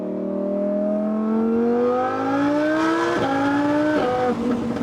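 Supercharged V10 Lamborghini Huracan Spider accelerating hard, its engine note climbing steadily in pitch through the gears with two quick upshifts, loud and close with no talk over it.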